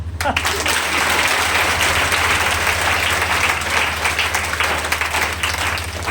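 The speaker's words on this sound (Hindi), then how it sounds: "कविता खत्म, ताली बजाओ" Hindi poetry gathering audience breaking into sustained applause after a poem, dense steady clapping throughout with a low constant hum underneath.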